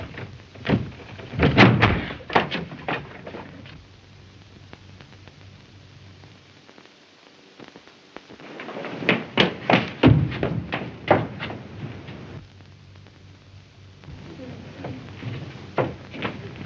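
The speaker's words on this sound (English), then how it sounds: "Let's break the door down." A door being battered down in a 1933 radio mystery drama: two bursts of repeated heavy thuds and crashes, the second bursting in dense and loud, with quieter scuffling between and after, no talking.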